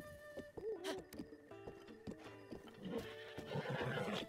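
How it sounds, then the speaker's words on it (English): Horse neighing and snorting in The Legend of Zelda: Breath of the Wild, with a whinny near the start and a longer whinny toward the end, over scattered hoof clops and game ambience, fairly close. "Yeah, horse."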